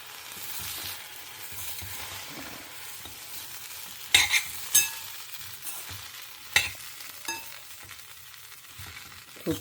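Food stirred and fried in a home kitchen pan, likely a Tamil lunch dish, with a steady low sizzle and scattered scraping clacks of the spoon against the pan, close and moderately loud.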